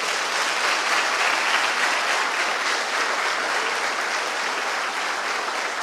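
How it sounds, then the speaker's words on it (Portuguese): Sustained applause from a church congregation fills the space, a dense, steady wash of many hands clapping at even loudness with no voices on top. "Você pode aplaudir Jesus agora?"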